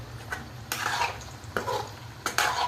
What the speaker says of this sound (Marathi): साधारण 5 मिनटं तरी तळायला लागतात.